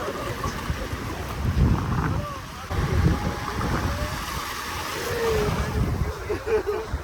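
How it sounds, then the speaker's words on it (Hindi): Sea waves washing onto a beach with cold, murky water near the shore, a steady broad surf wash with wind buffeting and people talking over it. "लहरें आ रही है"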